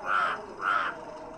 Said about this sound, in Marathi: मस्त कावळा कोवकोतोय